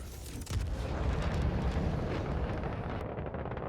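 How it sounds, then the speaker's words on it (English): Shells strike the player's warship in a naval combat game: a sharp blast opens into a long, rolling low rumble of impacts and explosions that stays heavy and dense, then cuts to a quieter rumble at the end. "our ship is getting shot at right now"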